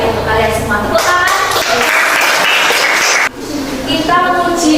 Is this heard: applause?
yes